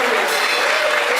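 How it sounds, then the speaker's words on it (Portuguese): Worshippers in a church service break into steady, dense clapping, a brief full burst of applause at even loudness with voices faintly underneath. "Aplauda o Senhor nessa noite, porque Ele está aqui."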